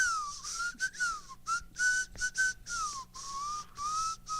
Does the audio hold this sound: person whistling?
yes